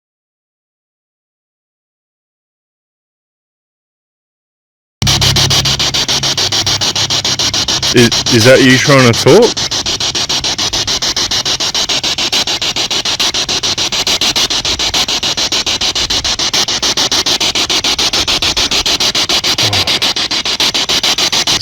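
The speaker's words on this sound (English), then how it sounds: "I'm just going to do a Spirit Box and we'll go from there" Spirit box radio sweeping through stations during a ghost hunt, loud continuous hiss and crackling static with brief fragments of chopped broadcast, starting after several seconds of silence, with a person speaking over it briefly.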